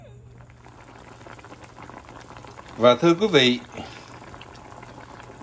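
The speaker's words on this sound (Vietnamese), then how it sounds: "cái nồi sauce phở gà đó, từ sáng tôi có đã làm cho quý vị" A pot of chicken pho broth simmers at a low steady bubble beneath someone speaking, the gentle burbling heard close and quiet throughout.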